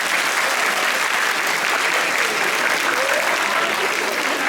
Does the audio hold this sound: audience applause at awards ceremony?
yes